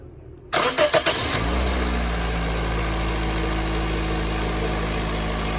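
A car engine cranks with a rapid starter whir, catches, then settles into a steady, loud idle hum close by.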